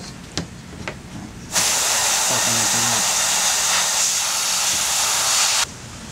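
Compressed air from a nail-gun type compressor with a large tank drives an airbrush, giving a loud, steady hiss that starts abruptly, holds for about four seconds and cuts off, preceded by a few faint clicks.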